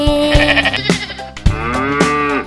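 A goat bleats in a wavering, drawn-out call, set within a Tamil children's nursery rhyme about farm and forest animals. It is loud and close, with a light rhythmic backing beat.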